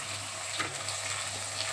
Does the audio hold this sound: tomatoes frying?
yes